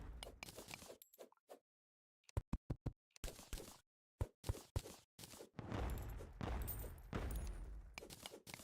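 Volcano weapon effect in Terraria, heard as bursts of punchy, crackling blasts separated by silent gaps, then a longer roaring rush of sound toward the end.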